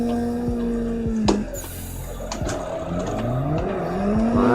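A drifting Nissan S13 coupe in Assetto Corsa, its engine droning and revving under full throttle while the tires squeal in long sliding wails, with sharp transient knocks and a shifting pitch as the car slides across curbing.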